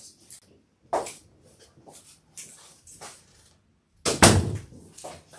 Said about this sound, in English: I'm going to close my door.